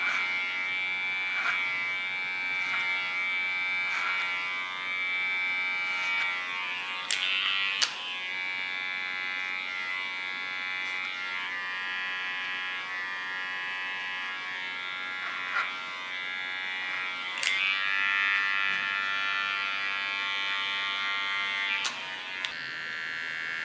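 Small electric hair clipper buzzing steadily and close while trimming the contour of an asymmetric haircut, a sustained whine that shifts slightly in pitch as it presses against hair, with a few faint clicks and no talking.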